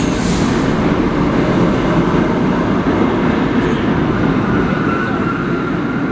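A New York subway train rumbles loudly and steadily at a station, a continuous low roar of wheels and cars with a faint squeal near the start.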